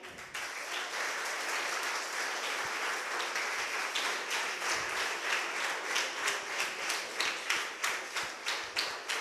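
Applause from the audience at a coaches' felicitation ceremony, a dense continuous patter of many hands clapping throughout, growing slightly more rhythmic and pulsing toward the end, with no talking over it.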